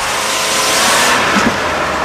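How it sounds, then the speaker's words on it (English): A car engine revs loudly and the vehicle pulls away, a steady full-bodied roar held throughout with a slight surge toward the end, no voices. "I rev the engine"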